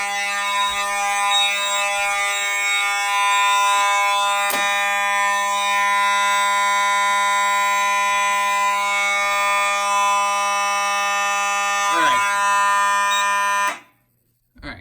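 A home fire alarm system sounds steadily during a magnet test of a heat detector, a loud continuous electronic tone with strong harmonics that runs unbroken for about fourteen seconds before cutting off abruptly.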